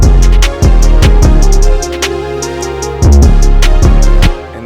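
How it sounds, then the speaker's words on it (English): Deep 808 bass pattern in a beat, loud sustained sub-bass notes sliding between pitches under crisp, rapid hi-hat ticks and snare hits in a steady hip-hop groove. "The 808 is not gonna sound as bright, but it's okay. It still slaps and it sounds like this."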